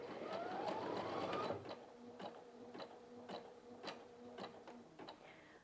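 Brother Innov-is F560 sewing machine running a standard zigzag stitch: a fast, steady mechanical whir with regular ticking needle strokes, close and moderately loud, which then stops and leaves sparse clicks and light handling sounds.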